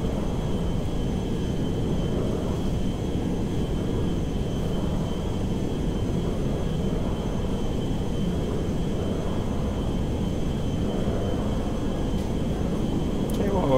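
A plane in the GTA 5 video game drones steadily overhead near a flight path, a continuous low engine roar lasting throughout at a constant loud level.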